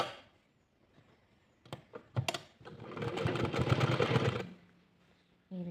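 A sewing machine stitching two layers of cloth in a tailoring lesson: a few isolated clicks, then a steady mechanical run of about a second and a half before it stops.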